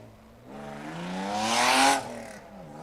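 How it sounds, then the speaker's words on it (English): A Mazda Miata race car on a track, its engine note climbing steadily as it accelerates past, swelling loud before dropping away as it moves off. "This guy has been getting down in this Miata, man."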